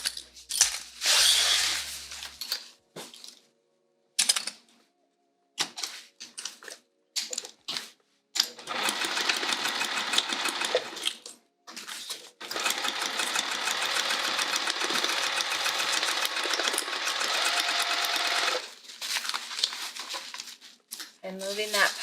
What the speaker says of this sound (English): Okay, let's sew this down.